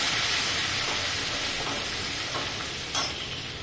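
Asafoetida and turmeric hit hot oil for kadhi pakoda, giving a loud, continuous sizzle and hiss with faint stirring taps underneath.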